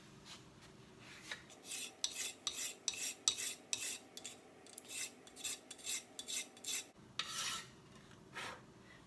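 A wooden handle for an Ochsenkopf Iltis Model Canada 1000g axe being scraped thin with a blade: a steady run of about a dozen rasping strokes at close range, evenly paced with a short pause near the end, and no voices.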